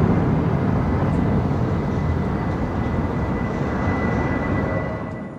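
Steady, loud broadband roar of a C-5 Galaxy, a heavy military transport aircraft with a 222-foot wingspan, rumbling continuously and close by before easing slightly at the end.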